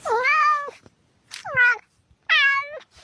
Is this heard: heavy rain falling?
no